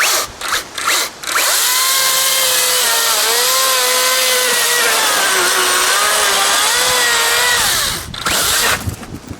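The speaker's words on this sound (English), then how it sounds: "Let's make sure that the brake is off and we'll see what this saw does." A Makita XCU04PT1 36V (18V X2) LXT brushless 16-inch chainsaw spins up and cuts, giving a loud, steady, high-pitched whine that holds for several seconds, dips in pitch under load, then winds down, with short bursts before and after.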